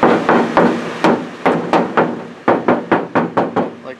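Knuckles knock on a panel of 4 millimeter thick sound deadening foam, giving about fifteen close, loud, hollow thumps in uneven clusters, each one ringing briefly.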